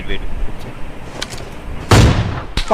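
A grenade blast in a mobile battle-royale shootout, preceded by scattered gunshots, lands as one sharp, loud burst with a brief tail, and a few more shots crack right after.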